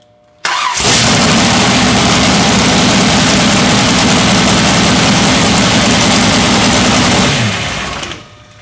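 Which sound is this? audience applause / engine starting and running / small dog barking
engine starting and running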